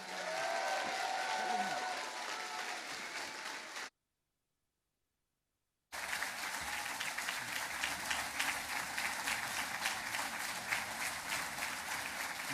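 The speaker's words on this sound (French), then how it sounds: "Je vous invite à applaudir" An audience at the 2015 Humanity Fair, gathered for a Plan B for Europe talk, applauds Oskar Lafontaine with steady, dense clapping that breaks off into a brief silence and then resumes even more fully.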